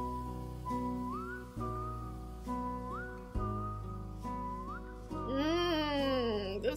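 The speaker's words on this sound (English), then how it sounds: "This whistle?" A melodic whistle line carries through a K-pop song by IU, held notes with upward slides over sustained backing music, then a brighter, wavering high phrase near the end.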